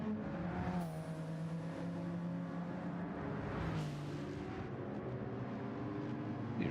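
Race car engine, a Lamborghini competing in a Gen-X Group 3 sim-racing round, revs hard with rising and falling harmonic pitch sweeps, loud and continuous with no talk.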